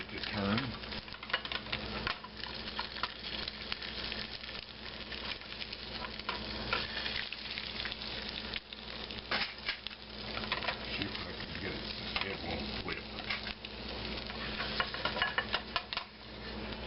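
An egg fries in a pan under a lid, giving a steady, dense sizzle and crackle that runs throughout at moderate volume.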